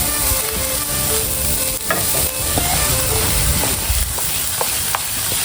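Western omelette ingredients sizzle loudly in butter on a flat griddle as they all go down at once. A dense, steady crackle carries scattered sharp pops and scraping clicks, close up, with no talking.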